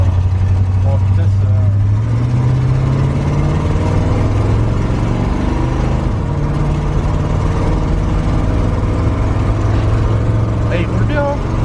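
A 1978 Chevrolet Cheyenne pickup on the road, its engine droning steadily from inside the cab with the pitch rising and shifting as it picks up speed, loud and continuous, while people talk over it.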